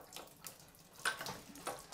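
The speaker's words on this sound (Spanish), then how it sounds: "Estaba lleno de agua, lógicamente, porque este va hacia arriba. Entonces nada, dejamos que escurra bien el agua." Water spatters and trickles in short uneven bursts as it drains from a shower arm just unscrewed from a thermostatic mixer with a wrench, faint and close, with a few brief metallic ticks.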